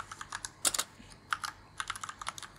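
Computer keyboard typing during a Remix JS coding session: quick, irregular bursts of crisp, close keystrokes, with a few louder key presses in the middle. No one talks.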